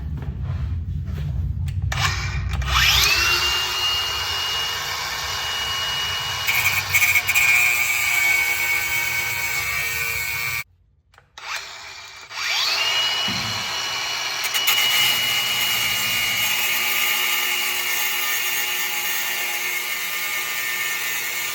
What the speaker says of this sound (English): I'm gonna try to cut this bolt head up in half in the middle and then chisel it off